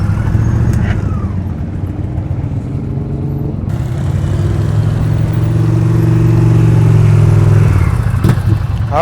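A motorcycle engine runs near and loud during slow speed riding practice, a steady low drone with slight rises and falls in revs and no spoken words.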